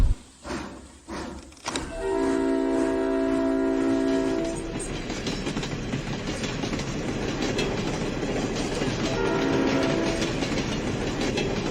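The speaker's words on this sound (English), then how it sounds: "I'm driving a train. I'm really driving a train." A steam train moving along rails: a steady close rumble with rhythmic wheel clatter throughout, cut by two long sustained horn blasts, one early and a shorter one near the end.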